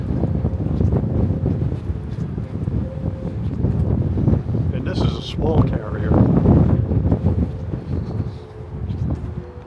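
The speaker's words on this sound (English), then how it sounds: "it's really windy out today" Strong wind buffets the microphone with a constant low roar while someone talks over it, outdoors aboard the USS Lexington in Corpus Christi, Texas.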